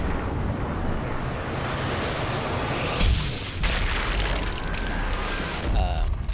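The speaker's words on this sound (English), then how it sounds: "No matter when or where you detonate those explosives, that is the scene you will always see." Explosives detonate in the Sniper Elite V2 video game as a loud, roaring rumble that swells into a broad blast burst midway, with deep booming tails and continuous noisy wash throughout.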